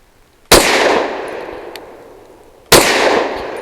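A Grand Power Q100 Mk23 pistol fires Norma frangible 65 grain rounds: two loud, sharp shots about two seconds apart, each with a long ringing tail that fades between them.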